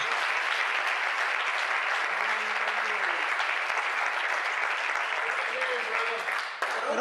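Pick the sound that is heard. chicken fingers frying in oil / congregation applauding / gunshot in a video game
congregation applauding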